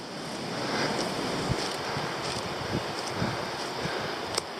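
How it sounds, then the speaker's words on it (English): River flowing below a hiking trail at Black Glen Falls, Tasmania: a steady broadband rush of water, fairly soft and distant, with a few light knocks and footstep-like bumps. "You can slightly hear the river"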